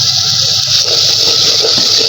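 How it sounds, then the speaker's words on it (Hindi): Water is poured into a hot cooking pan with a loud, continuous gushing splash that lasts the whole short moment, and no one speaks over it. "थोड़ा सा पानी डाल दूँ।"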